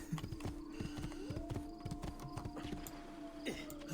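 Hooves clip-clop in a brisk, even rhythm over a low steady hum in the video game Assassin's Creed 2, with a rising tonal whine partway through; moderately faint, no speech.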